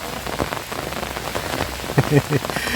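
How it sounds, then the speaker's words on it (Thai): Heavy rain falls at a cemetery pavilion in a steady, close downpour of drops pattering on a surface, with a few sharper splashy hits near the end. "ฝนตกด้วย ฝนตกด้วย"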